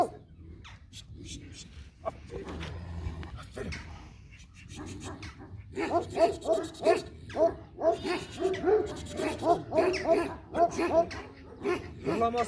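A purebred Kangal dog barks in repeated deep, resonant woofs, close and loud, with a steady rhythm in the second half; whimpers and a voice come earlier.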